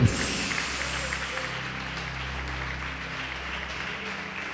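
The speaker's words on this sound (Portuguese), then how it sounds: "Você pode aplaudir o Senhor Jesus por isso?" A church congregation applauding during a Portuguese-language sermon on faith and prayer, a sustained even patter of many hands that holds steady for several seconds under a low hum, with no voices.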